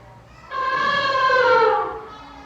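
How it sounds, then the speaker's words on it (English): Elephant trumpeting: a single drawn-out, harmonic blare lasting about a second and a half, loud and close, with no talk over it. "Elephant."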